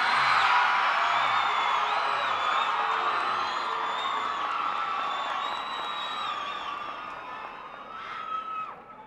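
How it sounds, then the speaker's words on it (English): Dense crowd cheering, whooping and shouting at a 1986 Senate campaign rally in Colorado Springs, loud and sustained throughout with rising yells near the end. "the way all of you have been cheering"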